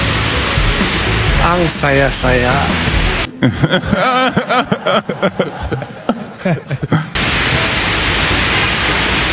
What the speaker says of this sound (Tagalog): Tinan nyo kung gaano kalakas ang ulan. Napakalakas ng ulan.